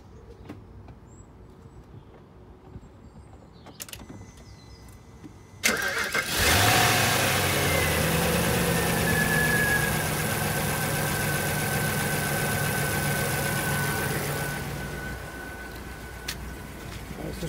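An Audi S8, left standing for about two days, cranks briefly and fires up, then settles into a steady, loud idle held close by, with the engine note dropping slightly near the end.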